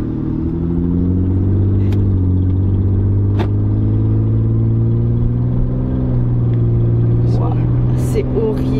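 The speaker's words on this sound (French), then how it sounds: "Ça fait le bruit d'une grosse voiture sans échappement." Van engine with a missing or failed exhaust, running continuously with a loud low droning rumble close by. A few faint clicks and brief sounds occur near the end.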